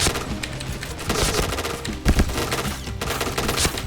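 Rapid TD7 gunfire shot back at the player in a Point Blank (PB) shooting video game, with dense automatic bursts and a few heavier cracks running continuously and loud throughout.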